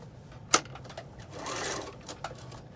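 A sewing machine stitches a face mask pocket: a sharp click, then a short quiet mechanical whirr of stitching, faint and close, followed by a small tap.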